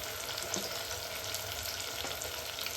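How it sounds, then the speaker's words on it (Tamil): Onions and curry leaves fry in hot oil for a fish curry, giving a steady, dense sizzle close by with faint occasional stirring taps, no talk. "அப்படியே வெங்காயம் கருவேப்பிலையும் பொரியிட்டோம்"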